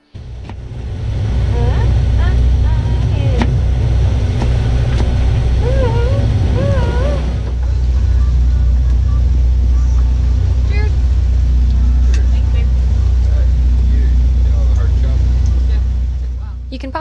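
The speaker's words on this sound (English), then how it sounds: "You can probably also hear that we're motor sailing here as well" A sailboat motor sailing under engine power on a Gulf Stream crossing toward Cuba. A steady low engine drone runs throughout beneath a voice and faint, fluttering background noises.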